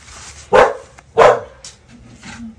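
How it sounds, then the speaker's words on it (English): A pet dog gives two sharp, loud barks about half a second apart, followed by softer trailing whimpers and low noises in a workshop where a trailer mold is being warmed up. "That's what my dog has to say about it, of course."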